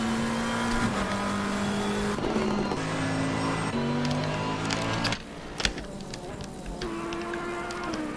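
An Audi R8 race car at Bathurst in a sim race, its engine note droning and shifting pitch as it passes the start-finish line, moderately loud under other cars and faint commentary.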